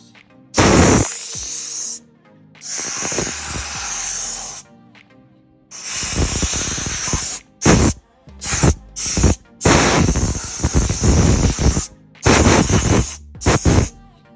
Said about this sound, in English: you switch out to a blower and you can blow this